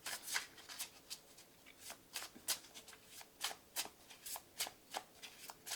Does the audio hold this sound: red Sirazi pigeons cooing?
no